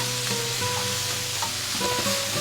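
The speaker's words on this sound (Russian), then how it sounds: "Пассерую все вместе пару минут." Bell peppers and other vegetables sautéing in a hot frying pan with black pepper for a soup, a steady close sizzle and crackle with occasional scraping stirs, no voices.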